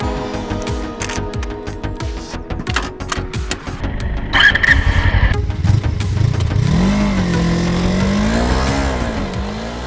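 Suzuki Inazuma 248cc parallel-twin motorcycle engine revving and pulling away, loud and close at first, then droning steadily as it accelerates and shifts pitch.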